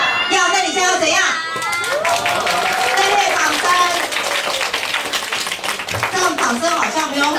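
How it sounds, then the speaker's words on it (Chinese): A group of children at a hands-on science activity clap in uneven bursts, mixed with shouts, chatter and an adult voice speaking over them. "掌声好像没有很热烈"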